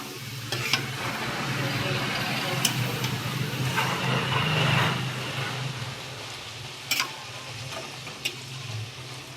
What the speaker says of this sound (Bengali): তেল গরম হয়ে গেছে, তেলের মধ্যে লুচিটাকে ছেড়ে দিয়েছি